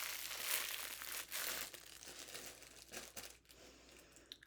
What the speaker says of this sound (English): Here you can hear the crinkling, all different colors.